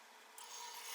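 A scraper cuts a wooden bowl spinning on a lathe, making a faint, continuous rasping scrape that grows slightly brighter partway through the brief moment.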